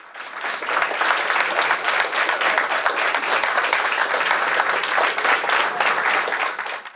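Members of Iceland's Centre Party welcome their chairman with warm applause at a waffle-coffee gathering. The room-filling clapping swells quickly and stays loud and dense throughout, with no speech over it.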